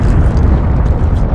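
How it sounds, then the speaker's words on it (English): Explosions in the video game Homefront: The Revolution, a dense, continuous low rumbling boom that stays loud and heavy without pause. "these explosions are definitely getting closer"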